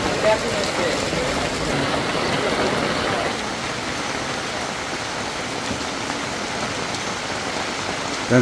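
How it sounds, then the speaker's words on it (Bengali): Heavy monsoon rain pours steadily over a village market (haat) with shops and chicken traders, a dense continuous hiss filling the scene from start to finish with faint voices beneath it. "মুষলধারে বৃষ্টি হচ্ছে, তারপর কেনাবেচা হচ্ছে"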